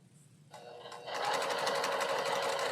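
Sewing machine stitching a quilt block, starting softly then running steadily at a fast, even buzzing pace, close and loud with no talking.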